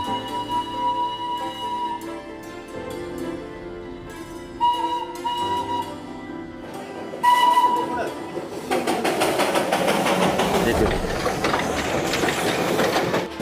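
The Darjeeling toy train runs beside a mountain road in the monsoon, with rolling rail rumble and rhythmic wheel clatter that swell louder toward the end. A whistle-like tone sounds along with it, and voices are heard.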